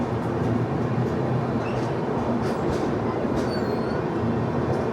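An SMVB Bengaluru to Howrah AC superfast express train running, giving a steady, loud rumble of wheels and carriage noise throughout with no pauses.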